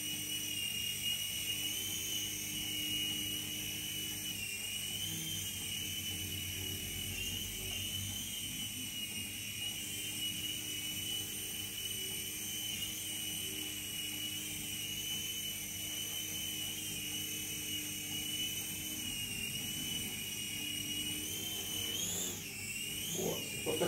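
A T2M Spark SX radio-controlled helicopter hovers and comes in to land, its electric rotor giving a steady, close, high-pitched whine with a humming drone beneath and a brief wobble in pitch near the end; no one speaks.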